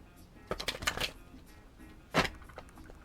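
Oracle cards being shuffled by hand, several quick papery riffles close up, then a pause and one more sharp shuffle, fairly quiet overall with no speech.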